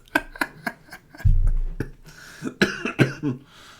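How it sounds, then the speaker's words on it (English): Several sharp, close coughs come in quick succession, with a brief throat-clearing rumble between bursts. "Too much laugh made me cough"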